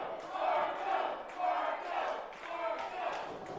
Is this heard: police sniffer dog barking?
no